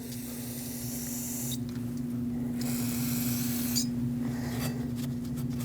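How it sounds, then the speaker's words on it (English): Brake parts cleaner hissing from an aerosol can onto a Lexus IS250 rear brake caliper bracket in several sustained sprays broken by short pauses, close, over a steady low hum. "Rinse this with a little bit of brake parts cleaner."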